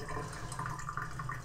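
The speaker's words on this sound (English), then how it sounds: "room temperature water and not ice cold water coming out of the tap" Lukewarm water runs steadily from a tap while watering an orchid, a close, continuous rushing and splashing stream with no talking.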